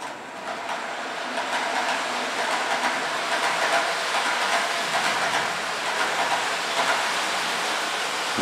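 A steady rumbling clatter of an N gauge model train running along its layout track, continuous and close, with faint rhythmic clicks throughout.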